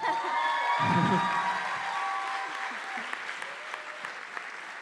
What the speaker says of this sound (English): Can I just get one more huge round of applause for my sister real quick?